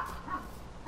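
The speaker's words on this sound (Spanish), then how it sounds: "el perro sigue ladrando" A dog barks in a Minecraft game, short yipping bow-wow calls over a soft background hum, moderately quiet and brief.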